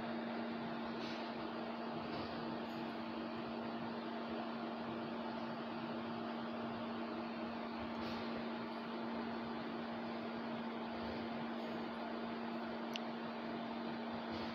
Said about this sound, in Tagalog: malakas din yung ating background music, yung tunog ng electric pan